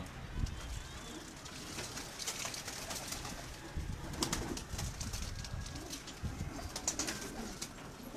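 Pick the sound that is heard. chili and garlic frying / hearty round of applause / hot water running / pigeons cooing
pigeons cooing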